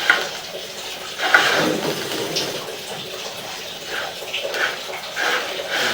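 Water running through a sewer drain pipe during a camera inspection, a continuous splashing gush with swelling surges and bursts, loud and close, with a few scraping knocks mixed in.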